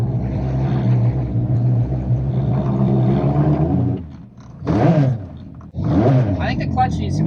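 Modified Smart car engine with welded differential running, a loud steady rumbling drone that dips briefly and revs back up, with voices speaking nearby.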